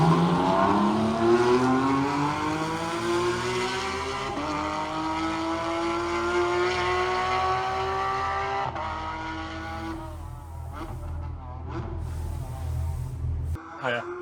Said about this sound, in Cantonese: 聽下啲引擎聲，我會話呢啲先係車嚟㗎嘛